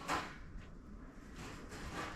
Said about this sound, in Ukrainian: зараз кріплю другу дверку